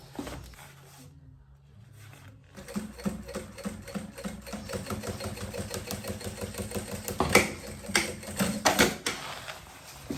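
Sewing machine stitching the lining of a banana bag, starting after a short pause and then running in a fast, steady mechanical chatter of needle strokes, close and fairly quiet, with a couple of louder bursts near the end.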